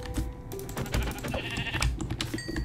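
Sheep bleating in the video game Minecraft, short nasal bleats over a busy game soundscape with clicks and thumps, fairly close and clear.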